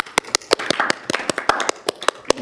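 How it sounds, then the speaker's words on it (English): Scattered hand claps from a council meeting audience, a quick irregular patter of sharp slaps rather than one clap, close and fairly loud. "I'll just do a clap."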